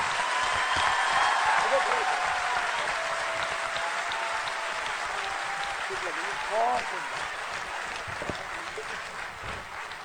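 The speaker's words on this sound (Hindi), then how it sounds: "आप ताली बजा दो तब तक जोर।" An audience at a Hindi poetry recital breaks into steady, full applause that holds loud and dense for the whole stretch and eases slightly toward the end, with a faint murmur of voices beneath.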